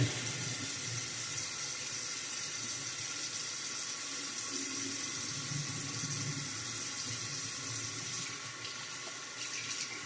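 Tap water runs steadily into a sink while mustache lather is rinsed out, a continuous even splashing rush at moderate level with faint shifts in the flow near the end.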